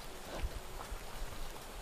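Steady rain falls over a rural village in Garut, West Java, Indonesia, making a soft, even hiss with a few dull low thuds, fairly quiet and with no voices.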